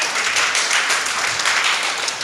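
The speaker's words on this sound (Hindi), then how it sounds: "तालियों से स्वागत करिए ना।" Steady crowd applause at a Hindu religious discourse, a dense wash of many hands clapping at once, fairly loud and continuous with no voices standing out.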